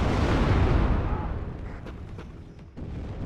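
An artillery round fires in the WARNO strategy game, opening with a loud, heavy boom that rolls into a long decaying rumble, followed by a few fainter distant cracks and thumps.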